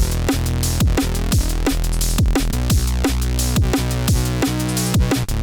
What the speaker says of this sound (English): take a simple bass sound like this